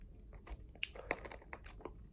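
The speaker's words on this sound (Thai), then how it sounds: "กัดเอาดีกว่าขนมปังแข็งมากแบบ ไม่ได้แข็งดิเขาเรียกว่าเหนียวอะคือหั่นไม่ได้เลย" Quiet, close-up biting and chewing of a hard, chewy bread roll served with a lasagna meal in a London hotel room, with a few sharp crunchy bites spread across the chewing.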